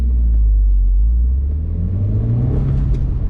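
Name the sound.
Audi TT accelerating on race track hot lap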